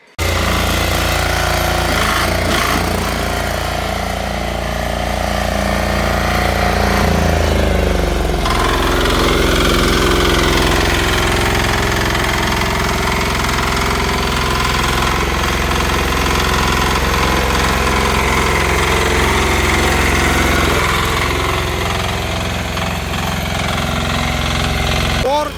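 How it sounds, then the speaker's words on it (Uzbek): A mini tractor engine runs steadily and loud throughout, a dense continuous mechanical clatter with a brief dip in level midway before resuming. "Sizlar bilan bitta bu mini traktorchamizni ishlash jarayonini ko'rib chiqamiz"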